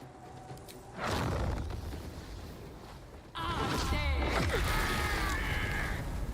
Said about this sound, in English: That was actually a bigger explosion than I thought it'd be.